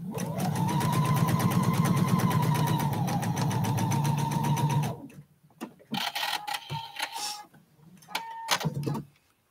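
A sewing machine stitches quilt binding with a 2.0 seam allowance, its motor humming steadily and loudly for about five seconds before breaking into short, choppy stitching bursts separated by pauses.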